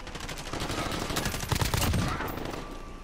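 Video-game battlefield gunfire, a dense flurry of overlapping shots for a few seconds at moderate level, with a voice briefly heard beneath.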